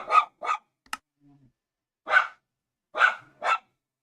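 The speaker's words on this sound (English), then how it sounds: "My dog hears a dog barking outside." A dog barks in short, separate bursts, about six barks with pauses between them, fairly clear and alone.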